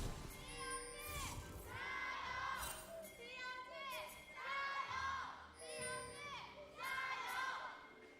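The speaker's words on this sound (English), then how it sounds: "A dedicated BLG fan core doing their best there" Fans of BLG at an LPL esports match cheer and chant in loud, rhythmic bursts. A large crowd voices a repeated chant that rises and falls about every two seconds.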